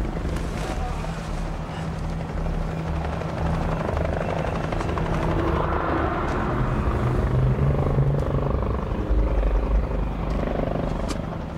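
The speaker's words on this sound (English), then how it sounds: "I heard some helicopters. They were quite distant at first." Helicopters approaching from a distance, a continuous rotor rumble and wash that grows gradually louder over the span, with wind noise in the background.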